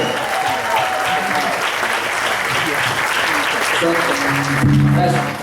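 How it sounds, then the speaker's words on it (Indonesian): Steady, dense applause from a large crowd fills the whole stretch, with a few voices and music tones rising near the end. "Ayo, tepuk tangan lebih keras lagi Bapak Ibu."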